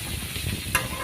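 Coriander and vegetables frying in a pan for a village-style chutney, giving a close, steady sizzle with stirring and a short bright scrape near the end.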